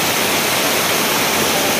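Small waterfall on a hiking trail up Mt. Makulay, Tanay, Rizal, roaring as a steady, dense broadband rush of falling water, close and loud with no voices.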